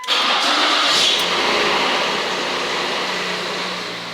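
A car engine with a newly replaced timing chain cranks and catches, then settles into a loud, steady running roar that slowly eases in volume.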